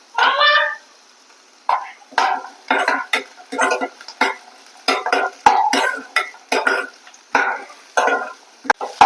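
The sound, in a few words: beans being stir-fried in a pan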